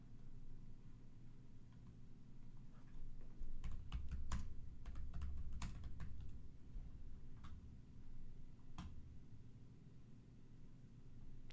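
Someone types on a computer keyboard while searching for a clip: faint, scattered clicks and clacks that bunch together in the middle, heard over a low background hum.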